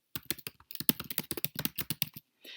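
Quick, uneven keystrokes clatter on a computer keyboard in a short burst of around twenty clicks, close and clear with no talking, ending in a brief softer rustle.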